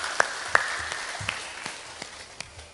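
Sparse, scattered handclaps from the audience at a Ramadan religious gathering, a few distinct claps standing out over a low steady background hiss.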